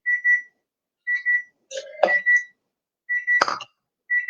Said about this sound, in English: And I hear another timer going off.